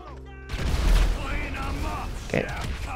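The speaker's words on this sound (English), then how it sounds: "I can also kind of help by chucking some grenades." Gunfire and grenade blasts from the video game GTA V: a loud burst of shots and a booming explosion, followed by further scattered firing, all under a voice talking over the game.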